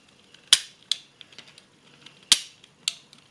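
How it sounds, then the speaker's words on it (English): A Diana Mini film camera's shutter snaps with sharp, close mechanical clicks, two strong pairs with smaller ratchety ticks between them, in an otherwise quiet room. "Check the shutter's working."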